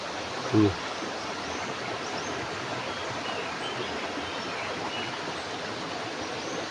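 A stream running through fields beside a Konkan village house gives a continuous, even rush of flowing water, moderately close, with one brief bump of handling noise early on.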